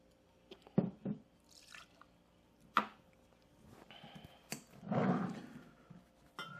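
Bourbon pours into a tall glass in short, quiet liquid bursts with small clinks and drips in between, close up and without talk.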